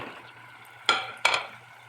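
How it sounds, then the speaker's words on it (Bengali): Spices with garlic, ginger and coriander powder cook in a pan for prawns, a soft steady sizzle broken by two sharp bursts of stirring or scraping. "এখন ভালোভাবে কষাই নিব"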